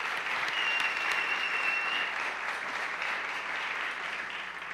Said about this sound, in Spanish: eso se merece un aplauso, ¿no les parece a ustedes?